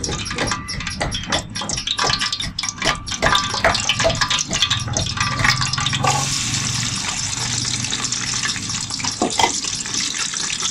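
Sliced onions hit hot ghee in a large pot and sizzle loudly and steadily, with a crackling, bubbling hiss that keeps going throughout with little sign of talk.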